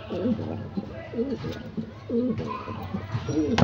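Pigeons cooing in a loft, repeated throaty coos in a steady rhythm, close and clear.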